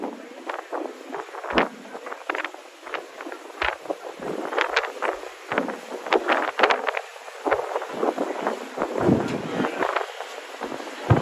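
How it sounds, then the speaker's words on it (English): Sea Streak catamaran on open water near Staten Island carries gusty wind buffeting and rushing water noise in uneven bursts, loud and close, with voices talking in the background. "These Sea Street boats, these are catamarans. These are really smooth ride."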